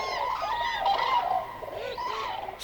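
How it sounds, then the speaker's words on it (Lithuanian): Cranes call from far off over a marsh at dusk, a steady run of muffled, wavering honks and bugling cries that carry faintly across open wetland with no voices nearby. "toli virš pelkės pasigirsta slopūs gervių šūksniai"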